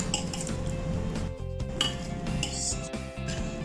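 Utensils clinking and scraping against a bowl while a Mexican salad is mixed, with steady tapping and rustling throughout, close and fairly loud over a constant background hum.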